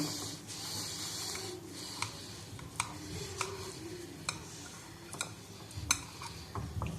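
A knife cuts a chilled pineapple delight dessert layered with Marie biscuits into pieces in a serving dish. Scattered light clinks and soft scrapes against the dish sound over a low, steady room hum.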